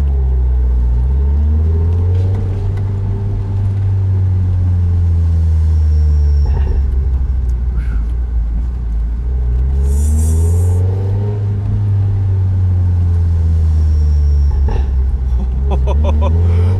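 An MG TF 135 sports car engine rumbles and revs up and down, with occasional sharp exhaust pops and crackles between the revs, close and loud.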